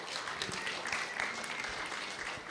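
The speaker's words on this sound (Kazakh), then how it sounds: "Доғыл шапалақ сізге." An audience applauds at a regional-stage competition event, a dense, steady patter of many hands clapping together for a couple of seconds with no voices over it.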